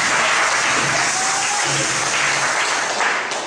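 A church congregation applauds during a worship service, a dense, loud wash of clapping that carries steadily for a few seconds with faint voices mixed in.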